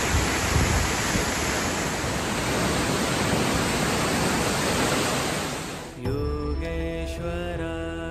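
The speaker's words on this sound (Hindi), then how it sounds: "आपको रास्ते में झरना मिलेगा" Waterfall beside a mountain pilgrimage trail in the Himalayas, a dense, steady roar of falling water that fills the first six seconds before giving way to chanting and sung music.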